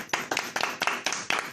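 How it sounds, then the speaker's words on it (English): Several sharp hand claps ring out in an uneven rhythm, close and fairly loud, with no talking over them. "Let's clap it up,"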